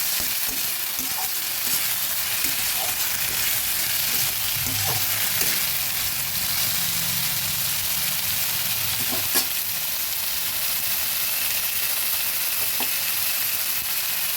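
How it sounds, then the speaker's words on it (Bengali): Onion paste frying in hot oil for a sesame katla fish curry: a steady, continuous sizzle with occasional stirring scrapes, close and even throughout, no talk. "এবার দিয়ে দেব পেঁয়াজ পেস্ট"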